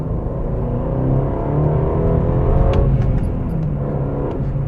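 An Aston Martin DB12 with a 671-horsepower twin-turbo V8 accelerating hard, heard from inside as a loud, steady deep engine roar with rising tones and a brief shift-like change midway.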